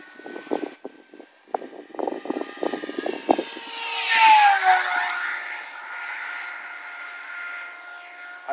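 A Great Planes Rifle RC pylon racer plane screams past with a high-pitched whining engine that rises and falls in a Doppler sweep, loudest mid-pass, after some clicks and handling noises close by.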